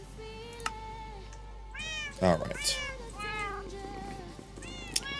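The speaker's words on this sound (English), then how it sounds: "We have successfully fed kittens" Kittens meowing in a video game, several short high meows scattered over game music, with a brief spoken word from a player.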